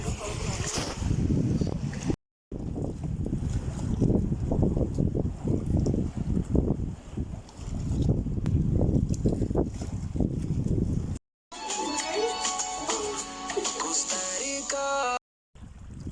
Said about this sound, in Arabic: ده البحر.